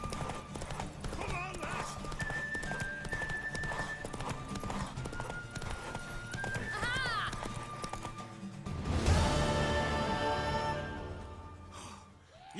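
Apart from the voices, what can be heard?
horse galloping, from the video game The Witcher 3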